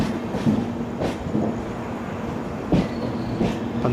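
Marusagar Express, running more than three hours late, rolling into Mangaluru Junction: a steady rumble of railcars with rhythmic wheel clacks over rail joints, heard from close by with no voices.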